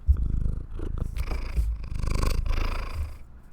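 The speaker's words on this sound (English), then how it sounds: "You guys got kisses and purrs." A cat purring close up, a continuous rhythmic rumble with soft breathy pulses.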